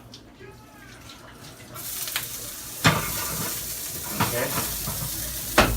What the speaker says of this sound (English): I'm just gonna saute a little bit of shallots